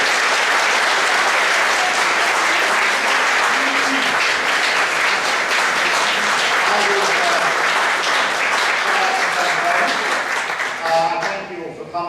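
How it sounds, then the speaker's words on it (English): An audience claps steadily and loudly for six election candidates at an evening event about becoming an MP, the dense applause running throughout with a few voices mixed in before it thins near the end. "Could you give a round of applause for all 6 candidates who've been here?"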